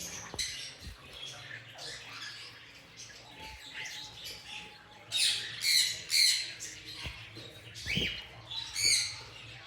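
Pet finches in a shop, including a breeding pair of star finches, give bursts of sharp squawks and chirps that come in loud clusters over a low steady hum of the room.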